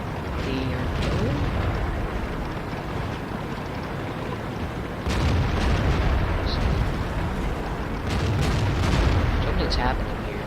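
Firefly tanks firing in a tank video game, with dense rumbling booms and bursts over continuous battle noise, a heavier surge midway, and a person talking throughout.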